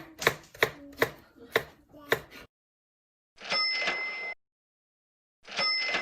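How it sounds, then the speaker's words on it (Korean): A knife cutting vegetables such as radish and red onion on a cutting board: five quick, evenly spaced chops, then two longer scraping slides across the board. "준비한 채소들을 먹기 좋게 썰어줄게요."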